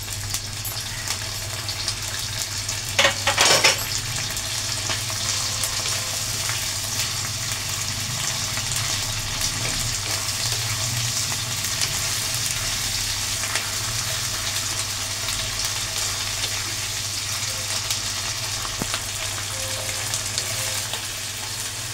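Onion, garlic and ginger paste fries in a pan with a steady, close sizzle for the whole stretch, broken early by a brief clink of a utensil.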